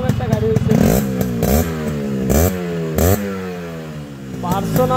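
A red Yamaha RX100 two-stroke motorcycle engine revs up and down in repeated rising blips, loud and close, with voices talking over it.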